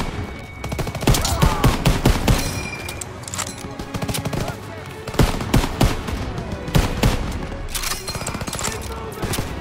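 Dense machine gun fire and rifle shots rattle continuously in Call of Duty WWII, a World War II battle around a barn, with loud overlapping bursts throughout and no clear talk.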